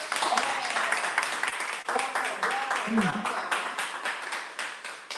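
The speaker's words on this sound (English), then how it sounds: "Can we get a hand clap for our speaker?" Audience clapping for a speaker at an investment-strategies talk, a steady wash of hands under a voice that speaks over it.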